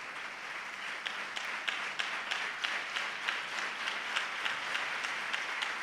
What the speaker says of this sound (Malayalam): നമുക്കെല്ലാവർക്കും ഒന്ന് ക്ലാപ്പ് ചെയ്യാം.